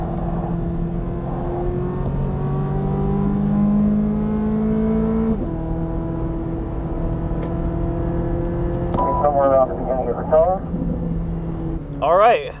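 A 2023 Corvette Z06 runs hard on a racetrack, its engine note rising steadily through the gears before dropping and climbing again, loud and close, with talking heard toward the end.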